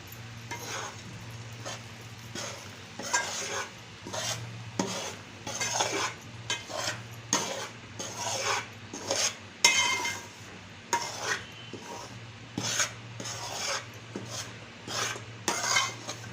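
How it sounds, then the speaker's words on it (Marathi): Ragi (finger millet) flour being stirred while it roasts dry in a pan over low heat, with repeated scraping strokes of a spoon in an even rhythm, close and clear over a low steady hum. "एकसारखं हलवत राहायचं"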